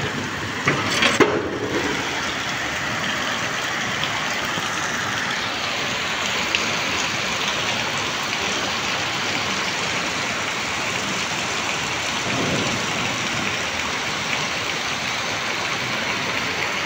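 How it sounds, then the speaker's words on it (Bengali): Heavy rain pours down in a steady, dense wash of noise that stays even throughout, with a brief louder knock early on. No thunder is clearly heard. "জোরে বৃষ্টি হচ্ছে, দেখুন বন্ধুরা।"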